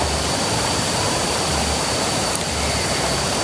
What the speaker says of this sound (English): ตรงนี้คือจุดน้ำผ่านนะครับของน้ำตกสาน้อย